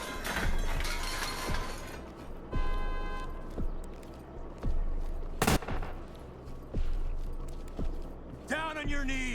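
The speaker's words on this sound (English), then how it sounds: "A sequence of gunfire detected." Gunfire in the tactical shooter game Ready or Not, a handful of sharp separate shots spaced through the stretch over a steady game ambience, with a loud burst midway and more shots near the end.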